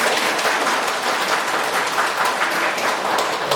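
Applause from the audience opening the second 2025 university admissions briefing, hosted by Daegu's Buk-gu district office, a dense, steady wash of many hands clapping at even loudness throughout, with no voices over it.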